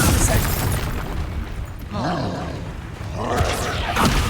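Incendio fire spell blasts in the Hogwarts Legacy video game, a couple of roaring bursts amid constant combat noise and booming effects, loud and close, with game voices in the mix.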